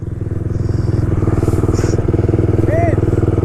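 A dirt bike rides through thick mud, its engine holding a loud, close, steady droning growl with rapid pulsing throughout, and some talk mixed in over it.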